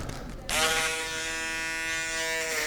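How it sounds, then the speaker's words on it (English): An electric shaver starts up and buzzes steadily and close at hand during a taper fade haircut, a bright continuous whine with no talking. "grab your shaver"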